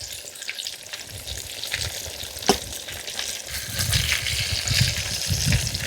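Fish pieces frying in hot oil for dum biryani, a continuous close sizzle and bubbling with a single sharp clink partway through and the frying swelling louder toward the end.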